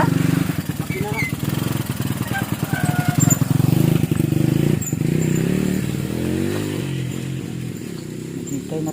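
An engine runs steadily through the whole stretch at a nipa hut in the evening, a loud low drone with rhythmic pulsing, with a person talking over it.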